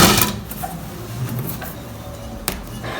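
A sewing machine stitches a long gathered frock, its steady rapid mechanical whirr running up close and loud for a few seconds with a brief click partway through.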